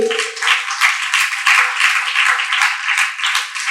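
A church congregation claps hands together in a quick, steady rhythm, close and fairly loud, while a faint held tone rings underneath.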